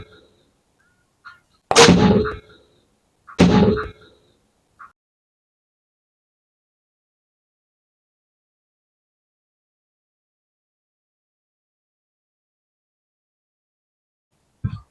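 Two sharp, loud shots from a Umarex air rifle firing a 27-gram arrow through a row of plastic bottles, each a hard crack with a short rattling tail, set in an otherwise quiet outdoor space, with a faint tap near the end.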